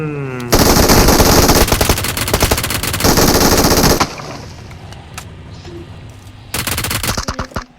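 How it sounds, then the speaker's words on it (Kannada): Rapid gunfire from the BGMI video game, loud dense bursts of repeated shots lasting a few seconds, a pause with scattered faint clicks, then another short burst. "ಶಾರ್ಟ್ ಗನ್ ಅನ್ಕೊಂಡು ಟಪ್ ಟಪ್ ಟ್ಯಾಪ್ ಟ್ಯಾಪ್ ಮಾಡ್ತೀನಿ"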